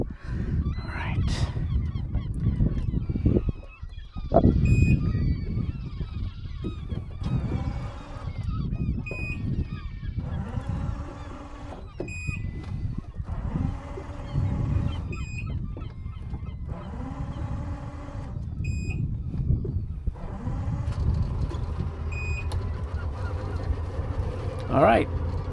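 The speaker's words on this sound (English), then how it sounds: "the cacophony of birds is just louder than I ever recall" A large flock of geese honks continuously in a loud, overlapping cacophony outdoors near water, punctuated by repeated sharp calls over a steady background of birds.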